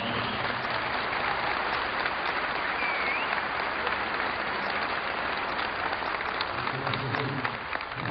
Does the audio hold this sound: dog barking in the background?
no